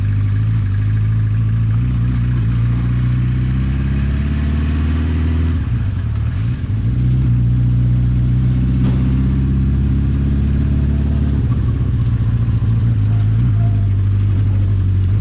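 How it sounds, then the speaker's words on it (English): Classic Honda CB350/4 four-cylinder motorcycle running slightly rich at low speed, a steady loud close engine drone with a smooth, even note and a brief dip around the middle before settling again. "bike feels really smooth, even though I'm only pottering around. Sounds really nice."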